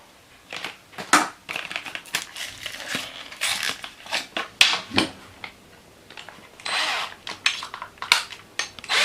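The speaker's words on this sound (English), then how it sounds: "so let's drill it again" A drill bores a hole in the body of a Xiaomi Pro 2 electric scooter to fit a signal light, sounding as a rapid series of close, rough, crunching grinding bursts with no talk.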